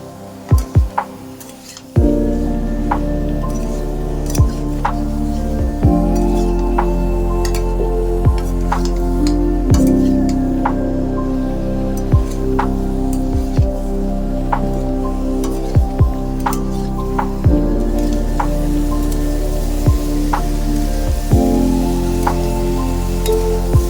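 Potatoes and cucumber fry with spices in a pan, giving a steady close sizzle with scattered crackles and pops, interrupted by a few stirring clatters, without talk.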